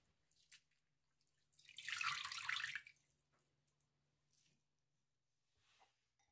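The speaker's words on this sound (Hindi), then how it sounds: "फिर से पानी शामिल करेंगे और इन्हें हाथों से मलेंगे।" Potatoes rubbed by hand in a bowl of water to wash them: a soft splashing swirl of water in the middle, with faint drips and small sloshes before and after, quiet and close.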